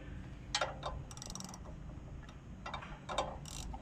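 Ratchet socket wrench clicking as it loosens a blade bolt on a Power King chipper shredder, with several short bursts of clicks close by over a quiet background.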